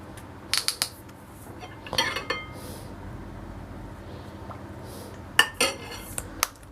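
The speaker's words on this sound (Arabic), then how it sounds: "نقلب النسكافيه كده مع بعضه" A spoon stirs Nescafe into eggless cupcake batter in a bowl, sharp metallic clinks and scrapes in a few short clusters against quiet background, close and crisp.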